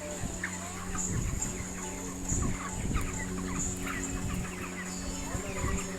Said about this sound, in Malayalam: ഒരു വ്യത്യസ്തമായ കോഴി ഫാമാണ്